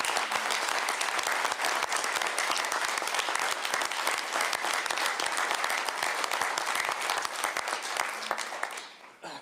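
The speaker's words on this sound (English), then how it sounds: "Please join me in a round of applause." Applause at a public board of trustees meeting after a resolution passes, steady moderate clapping from a room of people lasting around nine seconds and fading at the end.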